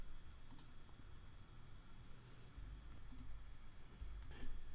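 A computer mouse clicks a few times, faint and close, with isolated sharp clicks spread apart over a quiet room hum.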